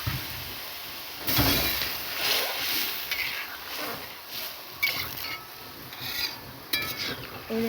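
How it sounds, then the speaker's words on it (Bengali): Rice and chopped mustard stirred with water in a cooking pot, a steady close scraping and sloshing of a spoon against the pot with soft wet rubbing and occasional knocks. "এই দেখুন জল দিয়ে ভালো করে নেড়ে নিচ্ছি।"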